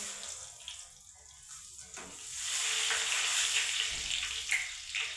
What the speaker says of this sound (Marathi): हे पहा तेल आपलं गरम झालेलं आहे तर आपल्याला ते पोहे टाकून तळून घ्यायचे